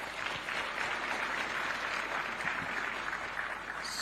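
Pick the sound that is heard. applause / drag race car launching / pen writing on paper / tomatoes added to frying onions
applause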